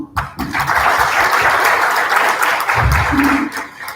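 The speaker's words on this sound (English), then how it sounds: "So give us a golf clap for that as" A conference audience at an orthopedics society meeting gives a round of soft, polite clapping. Many hands patter steadily for a few seconds, with a brief murmur of voices near the end.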